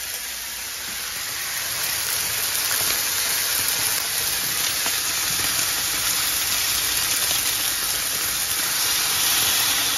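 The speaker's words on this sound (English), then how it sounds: "So in the meantime, while they are cooking" Strips of maple bacon sizzle in a hot pan at a Fourth of July cookout, with a loud, steady, close-up hiss that runs unbroken throughout.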